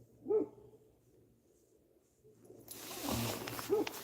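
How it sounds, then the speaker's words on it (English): An unsettled dog barks twice, each a single short bark several seconds apart, fairly faint against a quiet background that turns noisier and rustling midway. "There must be some boars around, because Dali, my dog, is unsettled"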